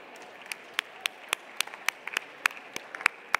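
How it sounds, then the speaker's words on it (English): At an annual awards gala, a small audience gives scattered, sparse applause, with individual claps ringing out unevenly and fairly quiet against a hushed room. "Give yourselves a round of applause for engaging."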